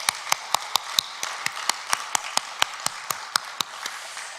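Evenly spaced sharp claps land about four times a second in a steady beat, as a church congregation applauds together during a Sunday service, with no talking over them.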